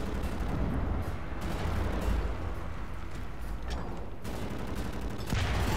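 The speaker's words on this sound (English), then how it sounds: "Hand grenades." Hand grenades explode in a Wolfenstein: The New Order firefight, a few heavy bursts breaking through a dense, loud, continuous wash of combat noise.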